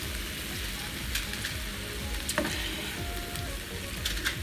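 Pork ribs sizzle and spatter steadily in a hot pan, a dense crackling hiss with scattered sharper pops, close up and with no talking.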